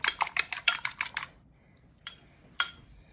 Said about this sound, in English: So just take 1 egg, beat it.